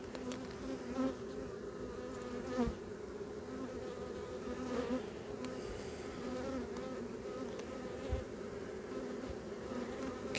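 Honeybees swarming around an open beehive during an inspection, a steady droning buzz throughout, close and continuous, with occasional soft knocks from handling the frames.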